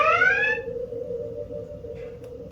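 A steady electronic laser tripwire alarm tone holds at one pitch, starting with a brief rising sweep, loud and continuous throughout.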